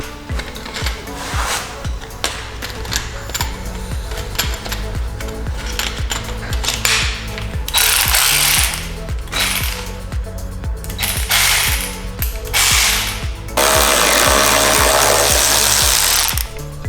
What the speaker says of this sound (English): I have a power tool.